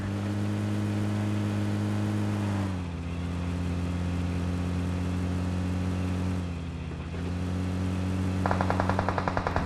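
Rapid automatic gunfire in PUBG Mobile rattles over a steady engine drone, continuous throughout, with a sharper burst of shots near the end.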